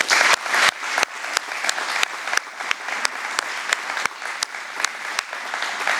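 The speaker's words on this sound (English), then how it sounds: "give a huge round of applause for all of our donors and sponsors" Audience applause for donors and sponsors at a hometown heroes closing ceremony, steady clapping from a modest crowd with a few sharp, loud claps standing out near the microphone.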